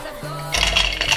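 A garlic clove dropped into a plastic food chopper, a light clink followed by brief clattering and rattling close by, with no talking.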